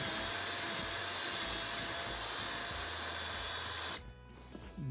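A handheld power drill boring a larger hole in a cat scratcher, whining steadily and loudly up close for about four seconds before cutting off abruptly.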